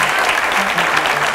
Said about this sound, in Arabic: تستاهل الزقفة الكبيرة من الجمهور والحضور الموجود معنا